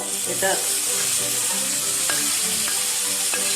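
Cooked beef stir-fried into sautéed masala in a pan: a loud, constant sizzle with occasional sharp clinks and scrapes of a spatula against the pan, close and uninterrupted by speech.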